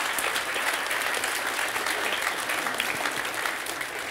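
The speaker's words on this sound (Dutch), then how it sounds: "Nee, applaus." Audience applause at a debate event: steady, dense clapping from a crowd, sustained evenly for a few seconds without speech.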